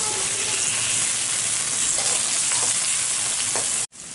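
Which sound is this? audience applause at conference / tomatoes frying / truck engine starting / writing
tomatoes frying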